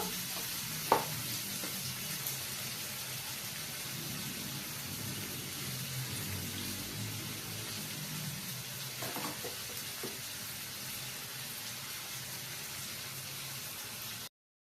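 Chopped ginger frying in a home kitchen pan with turmeric powder and salt, a steady close sizzle throughout with a sharp utensil knock near the start and occasional stirring scrapes, no voices.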